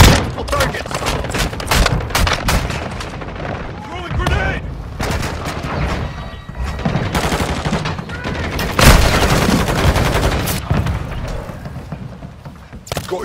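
Dense rapid gunfire with heavy booms and a grenade blast in a shooter video game, loud and continuous, with shouted voices underneath.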